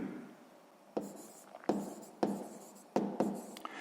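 Pen strokes write out a sixth-grade math solution, with several distinct scratchy bursts of writing separated by brief pauses, close and fairly quiet against a soft background.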